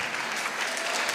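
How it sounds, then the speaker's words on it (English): An audience at a live worship service claps together in a dense, steady burst of applause, loud and close, lasting only a moment. "They're clapping"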